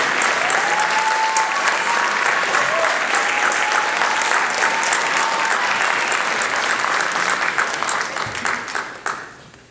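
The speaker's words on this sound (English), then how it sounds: "Don't be afraid to clap, give them a big hand." An audience at an MLK event gives a big hand. Sustained, dense applause carries on steadily for several seconds and then tapers off at the end.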